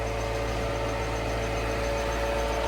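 A farm generator running for the first time in two years chugs in a steady, close, low engine drone with a constant vibrating hum, no voices over it.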